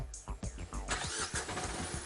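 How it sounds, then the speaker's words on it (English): Chevrolet Beat diesel car engine cranking close by, catching with a loud burst and then settling into a rough, uneven diesel idle over about two seconds. "Now I'm going to crank up the car."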